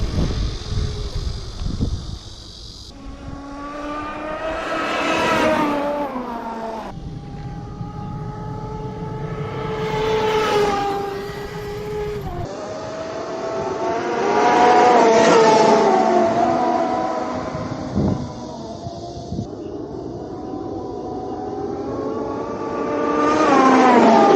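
A 1/5-scale RC monster truck runs at top speed, its electric drivetrain whining in rising and falling sweeps as it passes near and away several times, with no voices.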